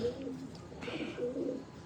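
A pigeon coos softly in a few low, rolling phrases, close by but quiet, with faint background noise and no talking.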